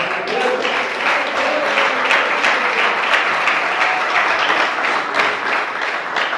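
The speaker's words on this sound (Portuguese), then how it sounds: "Palmas para Jesus, meus irmãos." A church congregation applauds loudly for Jesus, dense sustained clapping from many hands filling the room without letup.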